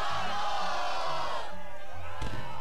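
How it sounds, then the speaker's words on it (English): Arena crowd in Kingdom Hearts 2 cheering and chanting over game music, a steady roar of voices with a sharp hit near the end. "the crowd is fired up"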